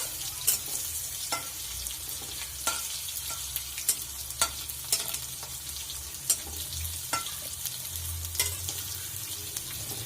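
Ridge gourd (dodka) stirred in hot oil in a pan, with a steady frying sizzle and repeated scrapes and clinks of the spoon at uneven intervals, close and moderately loud.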